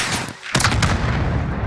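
A sharp gunshot bursts out after a brief lull in the video game Modern Warfare, its echo ringing over a dense, noisy battle soundscape full of rumbling gunfire.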